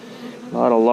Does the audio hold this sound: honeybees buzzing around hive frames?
yes